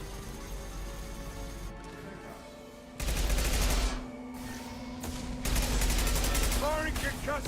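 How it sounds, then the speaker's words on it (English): Gunfire bursts out in a Mass Effect battle, rapid crackling volleys in two loud stretches with quieter ambient combat noise between them, while a player talks over it. "Firing concussive shot!"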